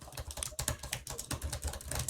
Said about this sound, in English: Then come to this place and start typing.